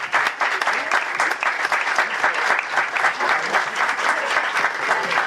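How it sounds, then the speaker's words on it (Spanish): Loud, sustained audience clapping at an award ceremony for a digital magazine's distinctions, with individual claps sharply audible and a voice speaking briefly over the applause. "Fuerte el aplauso para él."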